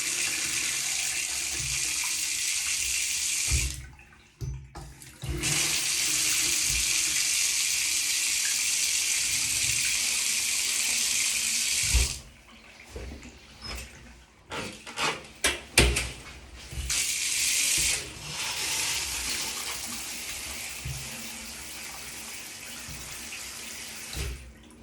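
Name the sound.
water running from newly fitted bathtub mixer tap, air in pipes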